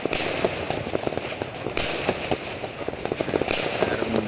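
Firecrackers going off at midnight during Chinese New Year celebrations in a residential area of Johor Bahru, Malaysia: a dense, continuous crackle of rapid pops with a few louder bursts, heard from some distance without talk.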